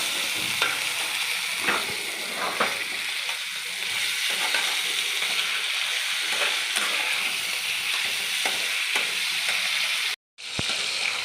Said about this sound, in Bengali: ভালো করে মাংসগুলো ভেজে নিলে তবে কালারটা আবার আসবে